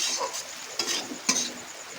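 Fish head being stirred into a spice mixture in hot oil, a steady sizzle with scraping spoon strokes and a couple of sharp clinks near the pan.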